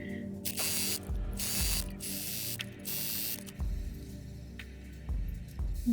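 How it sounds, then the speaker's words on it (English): A sewing machine running in bursts as it stitches a channel for elastic in fabric, giving mechanical whirring runs broken by short pauses and light clicks, close by with no talk. "Once I've done the top stitch, I'm then going to put a stitch channel in so I can put my elastic through these."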